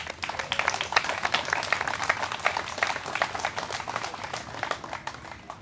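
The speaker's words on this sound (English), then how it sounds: "Let's give them a round of applause." A crowd at a playground ribbon-cutting ceremony for a park's 100th anniversary in Ames claps for about five seconds, a dense patter of many hands that tapers off slightly toward the end.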